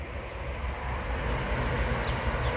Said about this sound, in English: but you could hear it, and the new electric trains.